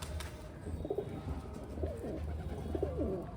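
Pigeons cooing nearby, including a red-eyed teddy pigeon and a golden pigeon, with repeated soft throaty coos overlapping in a steady rhythm against a low background murmur.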